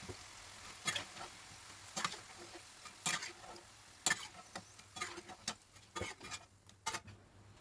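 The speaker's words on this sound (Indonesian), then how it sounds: "adukannya juga saat kita bolak-balik di wajan ini sudah nyaring suaranya" Crisp tofu snacks are stirred in a wok of hot oil, a faint sizzle broken by sharp scraping clacks of the spatula every second or so, with no talking.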